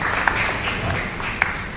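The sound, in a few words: audience applause for District 6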